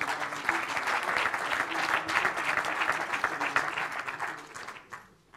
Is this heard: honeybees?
no